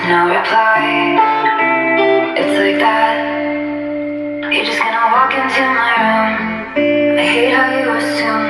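Loud music with melody and chords plays continuously from an HDY G35 Bluetooth speaker at full volume, filling the space without any talking.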